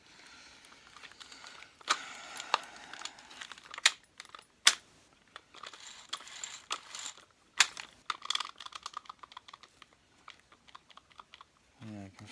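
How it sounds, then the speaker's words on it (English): The tech drive of a dirty Kirby G3 upright vacuum, partly stripped down for repair, clicks and rattles inside as it is handled, producing scattered close, sharp plastic ticks and knocks with quiet pauses between. "It's clicking on the inside, which it shouldn't do."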